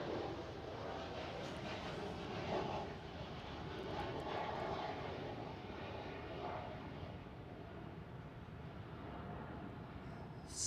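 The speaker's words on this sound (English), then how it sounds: "It was a KLM Cityhopper E195 E2 taking off." A KLM Cityhopper Embraer E195-E2 takes off at Schiphol with a sustained engine roar that swells and ebbs slightly over about ten seconds, fairly loud and alone without voices.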